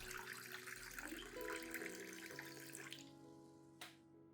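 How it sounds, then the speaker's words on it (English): Water pours steadily into a container, a full rushing splash that thins and rises in pitch as it fills, ending with a brief clink. "add 500 milliliters of clean water at room temperature to the solution to dilute it"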